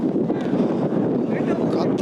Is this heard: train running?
no